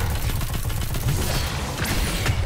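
Continuous dense gunfire and explosive thumps from a Destiny 2 combat encounter, with a grenade thrown at a boss. The barrage stays loud and steady throughout, with a brief high whoosh near the end.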